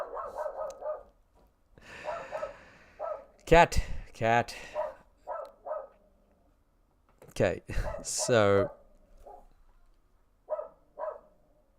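A dog barks repeatedly indoors at night, sharp close woofs coming in short bursts and clusters, with a person speaking briefly between them.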